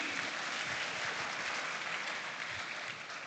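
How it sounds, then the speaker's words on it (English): An audience at a school farm awards grand final gives a sustained round of applause, a steady, full wash of clapping that holds at an even level before tapering slightly near the end. "Please, another round of applause for him."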